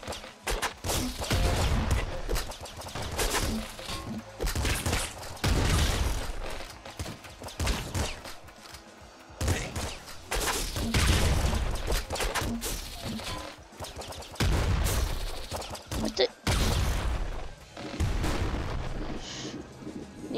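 Repeated heavy shotgun blasts from the top-down shooter Nuclear Throne come in loud clustered volleys, with short pauses between them and the booms dominating throughout.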